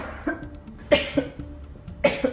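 Several short coughs, spaced irregularly, close and fairly clear with little else around them.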